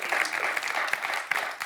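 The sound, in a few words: audience applause for a quiz contestant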